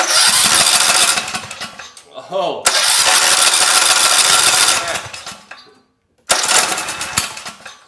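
A small engine is cranked repeatedly and fails to start, bursts of loud rattling, sputtering mechanical noise separated by short pauses and a brief silence, with a person briefly exclaiming.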